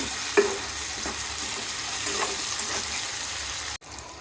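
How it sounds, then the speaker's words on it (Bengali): Sliced tomatoes and green chillies frying with onions in a pan, a steady sizzle with a few soft stirring scrapes; the sound cuts off abruptly near the end. "টমেটোটাও আমি পেঁয়াজের সাথে ভেজে নিব"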